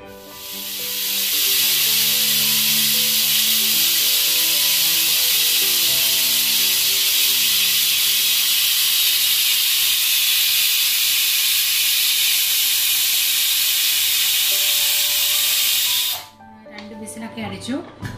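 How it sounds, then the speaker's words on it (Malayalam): Steam rushes loudly and steadily from a pressure cooker holding mango and jackfruit seed curry, a long close hiss lasting about sixteen seconds before cutting off abruptly into quiet kitchen sounds. "അടിച്ചു ഇതിന്റെ അവി എല്ലാം പോയി"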